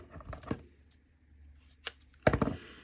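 Paper ephemera pieces cut in half at close range, a few short, quiet, crisp snips and rustles separated by pauses, with no talking.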